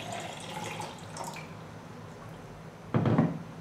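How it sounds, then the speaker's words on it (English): Water poured into a cup during a practice exercise for helping with daily activities gives a short, close splashing burst near the end, after a stretch of quiet room tone. "if you could pour the water into the cup"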